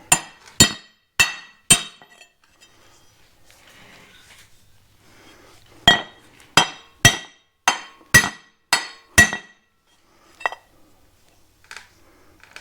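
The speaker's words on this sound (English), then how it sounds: "I'm actually gonna use this to hammer on this flat first." Sharp metallic hammer blows on a flat metal part of a 1988 Dodge D100 truck during wheel bearing work: three quick strikes, a pause, then a rapid run of about seven ringing hits and a final lone tap, close and clear.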